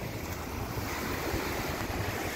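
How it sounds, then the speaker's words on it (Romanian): Sea waves wash and surge in a steady broadband rush under grey, foggy conditions, mixed with some wind buffeting on the microphone and no voices. "Da, valuri, nu mă pot abține că sunt foarte frumoase."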